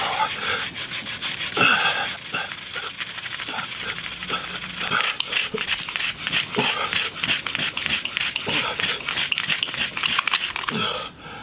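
Steady rhythmic rasping of wood rubbed back and forth to cut a groove for a friction fire, close up and continuous, with dense scraping strokes throughout and no talking.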